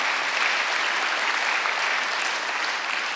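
A church congregation at Sunday worship breaks into applause, a thick, continuous wash of many hands clapping that holds steady throughout.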